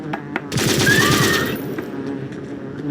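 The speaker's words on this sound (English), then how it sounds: "Use the machine gun more. The machine gun's very good." Machine gun fire in a video game, a loud rapid burst of shots with a steady rattling rhythm lasting about a second before fading into a lingering noisy tail.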